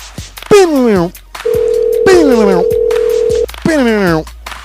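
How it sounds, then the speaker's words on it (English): A phone line gives a steady, loud dial tone while a call to a cell phone is placed, set between bursts of sweeping, voice-like sounds. "Calling him up on his cell phone."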